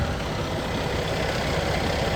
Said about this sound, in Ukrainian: Е, мотор робить гарно, рівно.